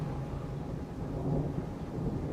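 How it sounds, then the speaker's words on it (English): A thunderstorm in the video game Roadcraft, with a steady low rumble of thunder under a continuous hiss of falling rain, even and moderately loud throughout. "Oh, it's raining again."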